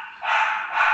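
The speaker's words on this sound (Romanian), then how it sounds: "a ieșit ca lătra câinele?" A dog barks in a steady, sustained burst, loud and close, with a short rise after a brief opening and a slight dip near the end, no voices present.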